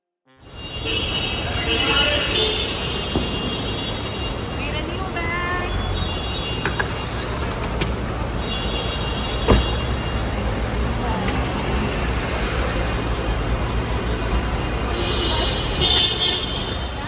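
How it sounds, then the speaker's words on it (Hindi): Busy Delhi road traffic with engines rumbling and car horns tooting repeatedly, some short and some held, close by and fairly loud, while voices talk faintly in the background. "ट्रैफिक, दिल्ली का ट्रैफिक"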